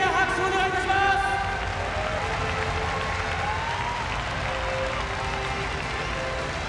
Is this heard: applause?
yes